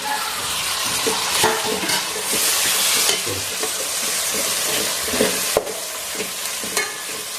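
Tomatoes and green chillies frying in a pan for vegetable biryani at home, with a steady hiss of sizzling and repeated scraping strokes of a spoon stirring them, close by and alone.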